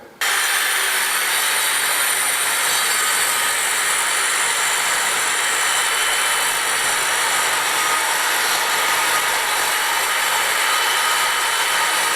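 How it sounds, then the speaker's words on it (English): A power saw cuts steadily through a wooden offcut to make a small batten, part of ceiling preparation in a Spanish finca restoration. The loud, continuous rasp runs without a break for the whole stretch, with no talking. "So, I've got a bit of an off cut, I'm going to chop some up."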